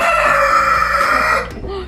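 Chickens kept as a backyard hobby flock in Germany, with a rooster crowing in one loud, drawn-out call over close clucking, alone without talk.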